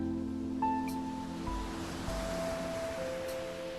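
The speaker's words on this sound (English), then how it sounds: "you can feel the gentle caress of the cool water as it washes over your toes each time the waves roll in" Waves roll in at the water's edge of a sandy shore, a steady, soft wash of surf with a gentle swell and fade, backed by faint tonal hums under the constant hiss.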